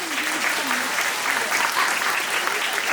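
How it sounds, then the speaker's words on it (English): A school audience applauds continuously, a dense, steady wash of clapping from a sizeable crowd, with faint voices mixed in beneath the applause. "Let's give them a round of applause."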